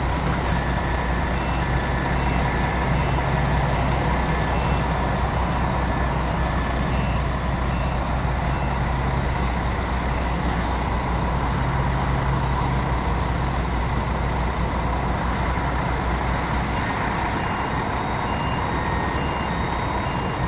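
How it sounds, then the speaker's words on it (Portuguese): Several Águia Branca buses run at a busy roadside with a steady, heavy diesel engine drone throughout. Repeated reversing beeps sound over it, with occasional short hisses of air brakes. "é só a Águia Branca que tá fazendo esse fuzuê todo"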